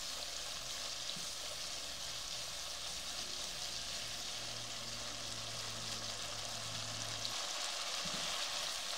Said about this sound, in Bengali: আমি কিন্তু মশলাটা এক এক ধাপে ধাপে কষিয়ে নিচ্ছি।